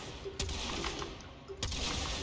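Two sharp kitgun shots fired in the Warframe video game, spaced about a second apart, each a loud broadband crack over steady game background noise.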